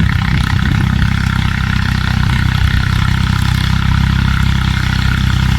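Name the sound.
Ford farm tractor engine running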